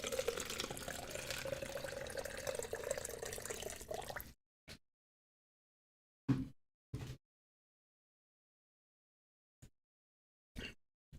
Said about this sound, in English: you're gonna hear me pouring some water into this cup